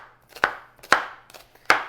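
A knife chops a peeled onion on a cutting board, giving three sharp, close thuds at a steady pace with no talking.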